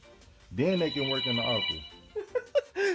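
A telephone rings with a steady electronic trill for about a second and a half, partly under a voice talking over it, followed by short bursts of speech.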